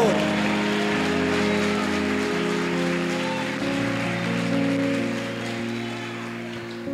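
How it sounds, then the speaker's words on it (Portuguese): Church congregation applauding during a worship service, a steady wash of clapping beneath music and a speaking voice. "diga glória, diga aleluia e aplauda o Senhor."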